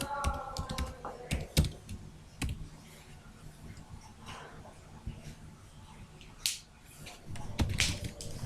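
Typing a C program on a computer keyboard: clusters of sharp key clicks in uneven bursts with short pauses, close and moderately loud, no voices.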